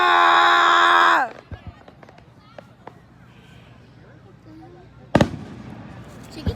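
Fireworks at a Holyoke display: a loud sustained crackling burst, then scattered fainter pops and one sharp nearby bang, with people talking and shouting around them.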